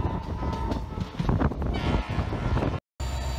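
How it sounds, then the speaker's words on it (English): A WDAP-5 dual-mode diesel-electric locomotive rumbles past close by, with a steady heavy roar of engine and rolling wagons, wind buffeting the microphone, and a brief dropout near the end. "Dual-mode locomotives can work with diesel engine as a primary power source while operating in non-electrified routes"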